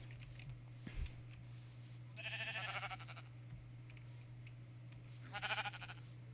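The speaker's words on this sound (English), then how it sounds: "It's the relentless sheep." Sheep in the video game Minecraft give two short, nasal bleats a few seconds apart, moderately loud over a steady low hum, with no speech.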